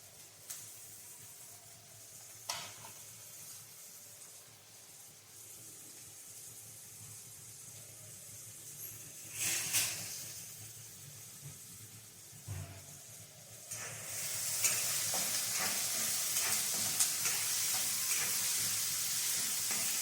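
Onions fry in a pan for chicken gravy, first as a soft low sizzle with scattered stirring clinks and knocks, then swelling into a louder, steady hiss for the final several seconds.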